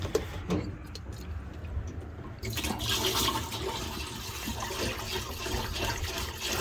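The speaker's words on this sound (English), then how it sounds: "Just gonna run straight antifreeze." Straight antifreeze flowing through drained water lines, a steady liquid rush and splash that starts partway in and keeps going loud and close, with no talk over it.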